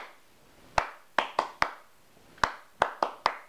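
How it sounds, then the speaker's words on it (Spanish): Hands clap out a basic rock/pop guitar strumming rhythm in eight sharp, close claps with uneven spacing. The claps come in small clusters separated by short pauses, and no voices are heard. "lo pueden aplaudir también"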